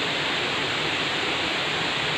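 A forest river runs over rocks along its bank as a steady, dense wash of rushing water, loud and unbroken, with no voices.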